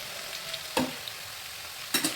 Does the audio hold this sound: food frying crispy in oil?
yes